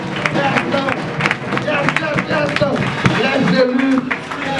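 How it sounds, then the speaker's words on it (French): Wedding congregation at a church nuptial ceremony clapping and cheering, dense sharp claps mixed with babbling voices and shouts, fairly close and continuous. "on applaudit, on acclame"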